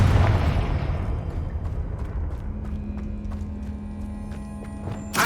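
A Confringo blasting spell goes off in Hogwarts Legacy inside a tomb, a loud, close booming burst that rumbles and fades over several seconds, with faint clicks and a sharp pop at the end.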